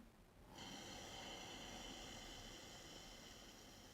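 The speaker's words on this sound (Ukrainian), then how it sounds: "Разом робимо глибокий вдих, наповнення." A long, steady deep inhale during a pranayama breathing meditation, a soft continuous rush of air that starts after a short quiet moment and holds evenly to the end, close and fairly quiet.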